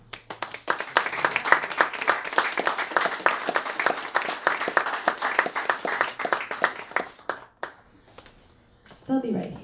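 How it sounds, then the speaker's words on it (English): An audience at a book release event claps in a loose, fairly close rhythm for about seven seconds, then the clapping breaks off and scattered movement and a brief voice follow. "let's clap for them"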